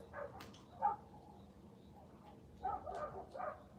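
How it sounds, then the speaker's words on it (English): Several dogs bark in the distance, faint and scattered, in two loose bursts over low background noise outdoors. "those are dogs barking"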